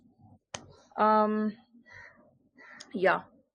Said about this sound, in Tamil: இங்க ஒரு காக்கா இருந்து பக்கத்துல கத்திட்டே இருக்கு